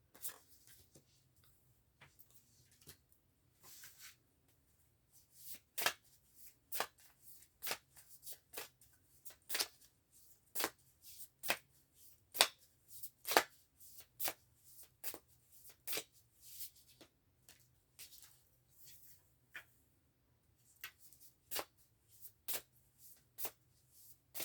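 Tarot cards being shuffled in close, crisp, rhythmic riffles and taps, fairly quiet, with no talk over them.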